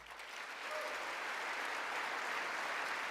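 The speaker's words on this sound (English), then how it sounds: "You can clap for that." Audience applause in a congressional chamber, a steady wash of many hands clapping together at moderate volume, sustained without pause and slightly building.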